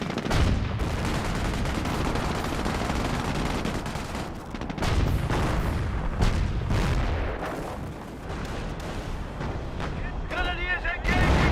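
An artillery round smashes a shed in Company of Heroes, amid a loud, steady barrage of booming shellfire and crackling gunfire that runs throughout, with crashing debris near the end.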